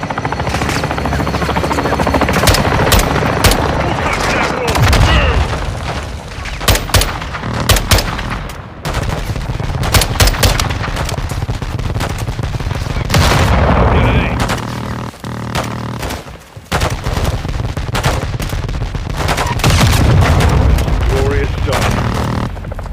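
Modern Warfare 2 air support strike on a building: a helicopter drones loudly throughout while bursts of machine-gun fire and gunshots crackle in repeated volleys close by.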